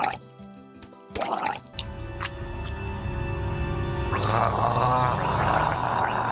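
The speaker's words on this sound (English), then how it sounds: "The sounds for drowned were recorded by Samuel Oberg gurgling milk." Gurgling milk makes the Minecraft drowned zombie sound: a bubbly, wet gargling that comes in short bursts and then a longer, louder stretch of liquid gurgles near the end.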